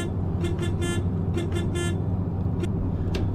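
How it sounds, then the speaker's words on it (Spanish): A Marcopolo Paradiso G6 1200 coach leaving a bus terminal sounds its horn in several short tonal blasts, a rhythmic burst of toots over a steady engine rumble, then two more isolated honks. "Ahí está la bocina otra vez para que se acuerden."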